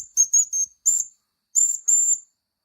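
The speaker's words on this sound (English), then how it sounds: "This whistle is for my friend Raymond, the Class 47" Live steam whistle from a Mamod Brunel model locomotive, sounding as five short shrill toots, a quick pair, a single, then two longer blasts, clear and close with silence between.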